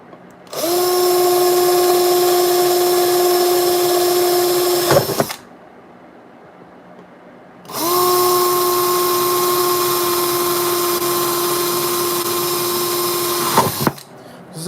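A power drill bores holes into a guitar pedal enclosure in two long, steady whining runs of about five and six seconds, separated by a pause, loud and close.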